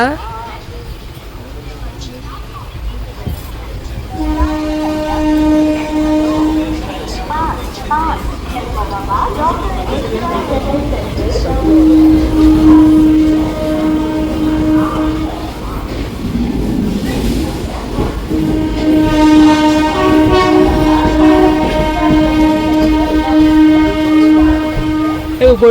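A train rumbles and clatters as it gets moving, its horn sounding in long blasts several times, with people talking over the noise.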